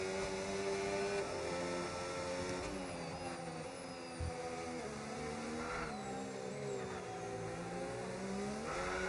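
Williams race car sliding around the Monaco street circuit in a racing video game, its engine droning steadily with rising and falling pitch and faint tyre squeal, heard fairly quietly throughout without talk.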